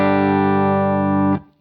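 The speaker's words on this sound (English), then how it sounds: "Clean tone" A single sustained electric guitar chord rings out in a clean tone through a pedalboard, loud and steady for over a second before being abruptly muted.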